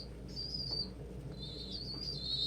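Pet pigeon chicks screaming close up, shrill high-pitched squeals in two drawn-out bursts over a low background rumble, with no talking.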